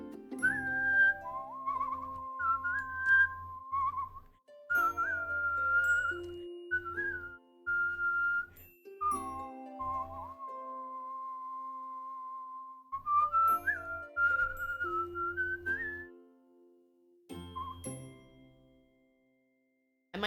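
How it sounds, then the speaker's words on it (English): A person whistles a tune in several sustained, wavering phrases separated by short pauses, clear and close, with no talk. "Sorry, I whistle better than you."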